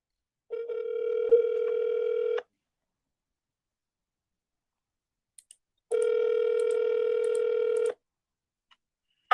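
A telephone ring tone on a call that gets forwarded to an automated message, heard as two long steady tone bursts separated by silence with a few brief high clicks, clear and alone.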